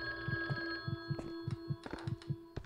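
An old-style telephone rings inside the video game The Guest, a rapid repeating bell trill over a droning ambient hum and low pulsing throbs, steady and moderately loud with no speech.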